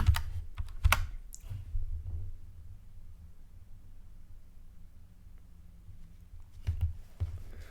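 A computer keyboard types an npm run command during a Webdriver.io coding lesson: quiet clusters of keystrokes at the start and again near the end, with a soft low hum in between.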